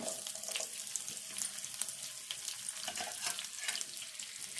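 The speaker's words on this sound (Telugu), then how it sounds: "ఇప్పుడు ఆవాలు వేసుకుందాము జీలకర్ర ఉల్లిపాయ" Mustard seeds, cumin and onion fry in hot oil for potato fry, a quiet, dense crackling sizzle with fine popping throughout, steady and close, with no talk over it.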